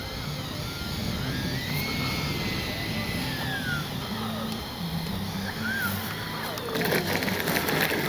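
An E-flite 90mm Viper RC jet with its electric ducted fan whining steadily as it flies past and turns, the pitch sweeping up and down, fairly distant and continuous with no one talking.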